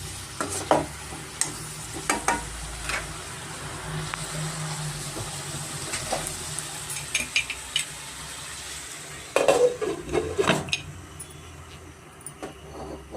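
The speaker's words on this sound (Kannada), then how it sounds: "ಮೀಡಿಯಂ ಫ್ಲೇಮಲ್ಲೇ ಸ್ವಲ್ಪ ನಾವು ಒಂದು ಐದರಿಂದ ಹತ್ತು ನಿಮಿಷ ಆಲೂಗಡ್ಡೆನ ನಾವು ಚೆನ್ನಾಗಿ ಫ್ರೈ ಮಾಡ್ಕೊಬೇಕು" Potatoes fry in oil on a medium flame for an aloo menthya curry, with a constant sizzle under irregular clatters and scrapes of a utensil against the pan, some louder knocks near the end, close and without talk.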